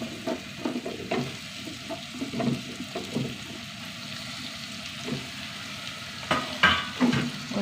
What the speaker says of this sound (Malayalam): ഇതൊന്ന് വഴണ്ട് വന്നോട്ടാ ഉള്ളി ഇഞ്ചി പച്ചമുളക് ഇനി മുരിയാൻ കായ് ഇട്ട് കൊടുക്കുക